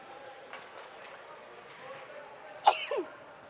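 A single sharp, fairly close sneeze from someone cuts through faint background chatter at a university ice hockey nationals broadcast, followed by a brief trailing breath.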